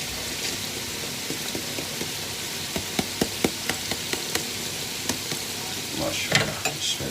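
Urad lentils go into hot frying masala and are stirred, giving a soft continuous sizzle punctuated by a series of sharp spoon scrapes and taps against the pan, with a louder burst of sizzling and clatter near the end.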